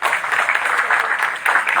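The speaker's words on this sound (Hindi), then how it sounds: "चलो इनके लिए सब लोग ताली बजाओ।" An audience at an IIT Roorkee Unnat Bharat Mission gathering breaks into brief applause for a group of students, a dense, lively burst of many hands clapping in a hall.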